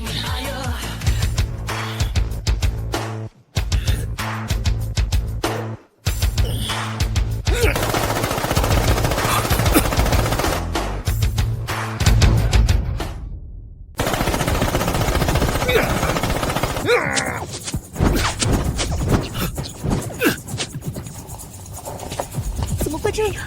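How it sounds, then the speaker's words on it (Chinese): Automatic machine-gun strafing fire in a dramatic car-chase film scene. Loud, dense bursts rattle on with brief drop-outs, then thin into scattered, lighter volleys. "你是说 机枪扫射？"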